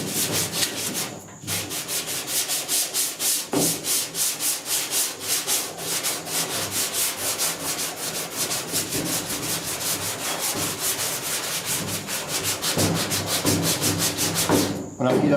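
Primer surfacer being block sanded on the dash and firewall of a 1966 Ford F100, a close, steady back-and-forth rasping in quick, even strokes, with only brief pauses throughout.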